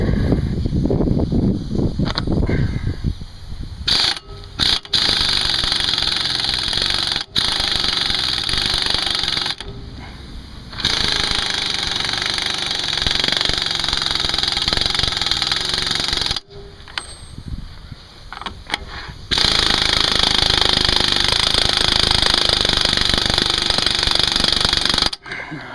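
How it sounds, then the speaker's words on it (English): An impact wrench tightens the axle nut back on a 1995 Ford Contour, loud close hammering bursts of several seconds each separated by short pauses. "I'm going to take the impact and put the nut back on"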